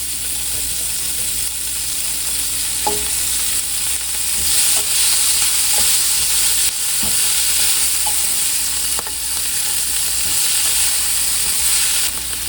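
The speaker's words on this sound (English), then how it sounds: "Now I'm just going to go ahead and add in my broccolini" Broccolini fries with garlic in a hot pan, a loud steady close sizzle with occasional clicks and scrapes of stirring, and no talking.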